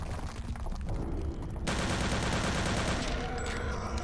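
Burst-fire gunfire in the video game Return to Castle Wolfenstein, loud continuous shooting that grows denser and harsher partway through, close and sustained.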